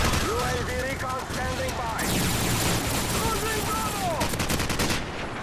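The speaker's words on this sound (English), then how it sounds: "AK just tears through everything." AK assault rifle gunfire in Call of Duty 4 multiplayer, rapid bursts of game gunshots filling the mix with dense crackling effects, with someone talking over parts of it.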